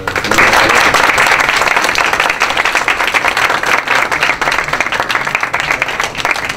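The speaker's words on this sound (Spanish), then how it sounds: "Les ruego entonces me acompañen con un aplauso" An audience at a university lecture gives sustained, dense applause, loud and close, holding steady for several seconds before thinning slightly toward the end.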